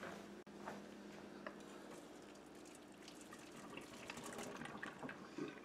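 Cooking water is poured off a pot of boiled potatoes, a steady splashing gush running continuously at moderate volume, with no talk.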